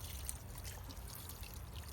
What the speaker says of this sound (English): I always do try to water the base.